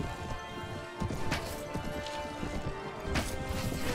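Horse hooves galloping in the medieval combat game Mount and Blade Warband, a busy rhythmic clatter of clip-clops amid battle noise, with a brief whinny and scattered impacts.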